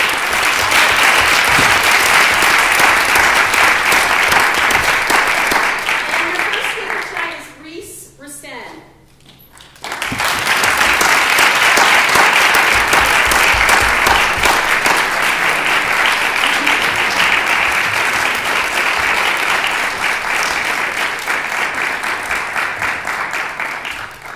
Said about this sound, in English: let's do another congratulatory round of applause for your first speakers tonight